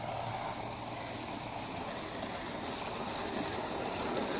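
Water gushes steadily from a solar-powered village tubewell pump in the fields, a constant close rushing, splashing roar without pause.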